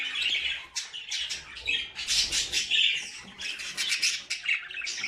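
Male Japanese finch and painted finch courting a female, with a steady stream of close, bright chirps, squawks and tweets overlapping throughout, plus some faint wing flutter.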